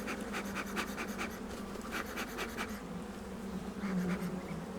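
Honey bees buzz around open beehive frames during a hive inspection, a close, continuous droning hum with individual bees flying past the microphone in brief louder swells.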